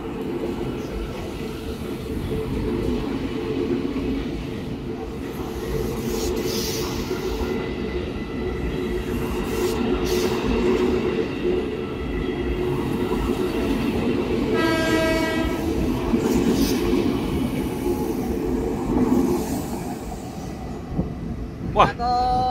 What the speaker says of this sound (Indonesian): KRL TM 7000 diberangkatkan.